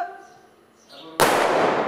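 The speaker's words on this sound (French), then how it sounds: "Attention, coup de feu." A blank gunshot goes off on a film set for a battle scene, one sudden loud crack after a near-silent lead-in, trailing into a broad noisy wash.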